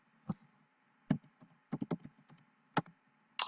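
Typing on a computer keyboard: quiet, irregular key clicks in short bursts with gaps between them, close by and alone.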